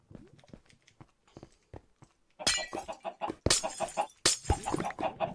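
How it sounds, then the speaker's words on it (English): Glowstone blocks broken one after another in Minecraft, giving three loud, glassy shattering bursts in the second half, preceded by quieter rapid tapping and clicking. "Break all the glowstone."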